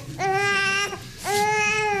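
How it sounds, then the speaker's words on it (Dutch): A baby cries in two loud, wailing bursts close by, with a short break in between, in a home setting. "Kindje huilt."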